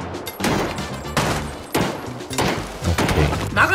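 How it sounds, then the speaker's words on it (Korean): Rapid gunfire from a shooter video game, loud bursts of shots crackling in quick succession with booming impacts, firing in a few clustered volleys across the whole stretch with no talking. "나가면서 쏘고 바로 들어가."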